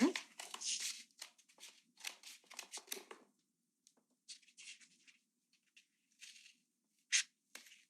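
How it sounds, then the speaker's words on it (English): Scissors snip and tear through a paper seed starter pot to cut a flap off, a run of close, crisp cutting bursts in the first three seconds, then scattered quieter snips and one sharp cut near the end. "And we'll cut this little flap off of here."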